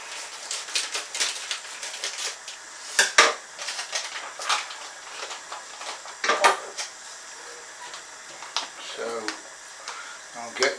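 Spray malt being added bit by bit to a homebrew pot for a Cascade IPA, irregular close clinks, scrapes and knocks of metal utensil against pot scattered across the stretch, with a voice talking between them.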